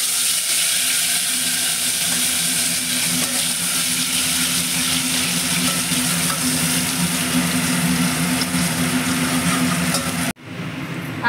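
Mustard seeds, curry leaves and masala sizzling in hot oil for Khandeshi kadi, a continuous loud hissing fry close by that cuts off abruptly near the end, with no talking.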